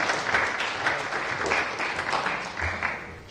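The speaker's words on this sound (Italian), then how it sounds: "un applauso ci sta" A small group claps for several seconds after a signature at an official signing ceremony, steady and moderately close, with no voices over it.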